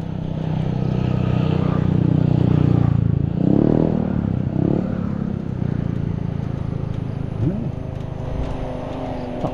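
Several motorcycles pass along a dark road during a cycling loop ride, their engines rising and fading near and far, with a low droning roar throughout and brief louder swells as they go by.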